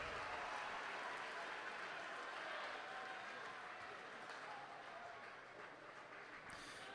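At a high school boys basketball regional final, South County fans keep up a faint, distant, continuous wash of applause and gym crowd noise that holds steady throughout.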